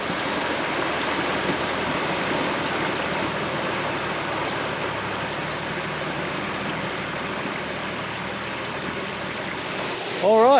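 King Edward Falls, a waterfall along the Gibb River Road in Australia, gives a broad, steady rush of falling water that stays even and fairly loud for the full length, with a brief human sound at the very end.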